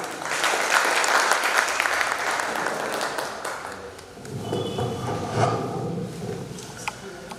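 Audience applause at a Hindi kavi sammelan poetry gathering at Kalidas Academy in Ujjain: a dense, sustained clapping that fills the first half, then thins into scattered claps and murmurs as a voice starts speaking.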